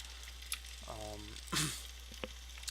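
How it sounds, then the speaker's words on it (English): Lava from a siphon pours into a cavern pool in the video game Landmark, giving faint bubbling sizzles and a short hissing burst over a constant low hum, with a brief tonal warble in between. "a lava siphon into a pool that just heats the cavern itself"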